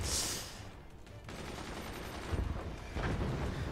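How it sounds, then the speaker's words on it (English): Machine guns fire in the strategy game Forts, a dense rattle of gunfire and bursts over rumbling background, moderately loud with surges near the end. "And then now the machine guns back up."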